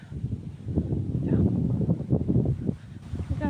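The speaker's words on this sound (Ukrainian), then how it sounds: "Не знаю, щось буде чути, бо дуже вітер." Strong wind roars and buffets the microphone in a loud, steady low rumble, with a few brief gusts and faint voices mixed in.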